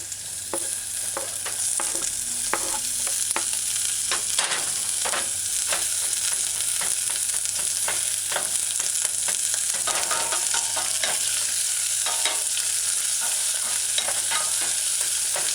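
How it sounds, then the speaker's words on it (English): Spring beans and carrot sauté in a hot pan for lo mein, a steady sizzle running throughout with repeated sharp scrapes and clicks of a utensil stirring the vegetables, close and fairly loud, no voices. "I just added the spring beans and the carrot to saute."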